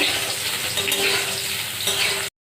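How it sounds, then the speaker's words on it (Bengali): Potatoes frying in oil give off a close, steady sizzle for a couple of seconds, then stop suddenly into silence. "আলুগুলো দিয়ে হালকা করে ভেজে নেব"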